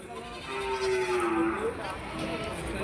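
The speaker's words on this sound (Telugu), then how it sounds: "ఆరు మేకలు ఒక పిల్ల తల్లి అండ్ రెండు పిల్లలు" A goat at a village goat market gives one clear, drawn-out bleat, close by, over a steady murmur of background noise.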